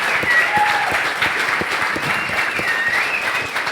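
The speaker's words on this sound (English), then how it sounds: "Big round of applause." A crowd claps steadily at a coding bootcamp demo day in Berlin, sustained dense applause with a few brief whoops and cheers rising over it, loud and continuous throughout.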